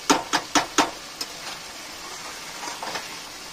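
Mutton with yogurt being stirred in a pan, four quick scraping clacks of a spatula against the metal in a steady rhythm, then fainter scattered scrapes over a soft sizzle, with no speech.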